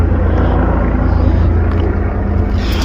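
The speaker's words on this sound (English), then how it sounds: "We have some helicopters." Helicopters flying overhead near an e-bike being unboxed outdoors make a loud, steady low rumble and broadband roar that holds constant throughout, with no voices heard.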